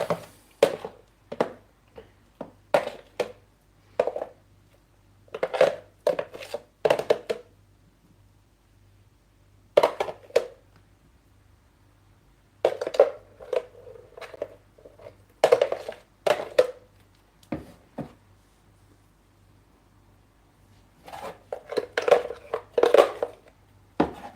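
Smoothie being scooped into a coconut bowl, close and quiet, with a series of short spoon scrapes and soft thuds in irregular clusters separated by silent gaps.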